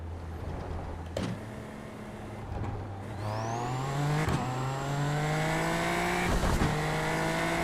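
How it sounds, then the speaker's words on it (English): A video-game race car engine at Talladega revs and whines with turbo whistle, pitch climbing steadily through gear changes, punctuated by sharp shifts, loud and close. "The turbos on this car sound so cool."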